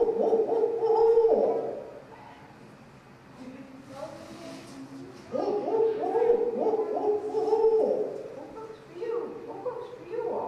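A person vocally imitates an owl's eight-note hooting call outdoors at a state park, delivering two rhythmic bursts of low, hooting syllables separated by a short pause.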